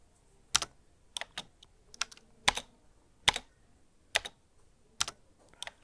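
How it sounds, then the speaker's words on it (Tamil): Light tapping on a phone's on-screen keyboard while entering a search in the Chrome search box, with about ten soft, irregular clicks spread over several seconds, quiet and close, and no talk. "மேலே சர்ச் பாக்ஸில் போய்ட்டு நீங்கள் டைப் பண்ணணும்"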